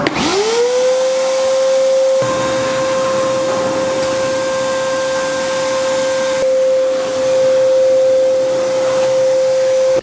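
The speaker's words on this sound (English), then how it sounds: "got to shop vac the inside and make sure everything's all nice and clean" A shop vac runs steadily while cleaning out the inside of a large powder coating oven, its motor spinning up quickly to a loud, constant whine that holds for the full stretch with slight shifts in tone.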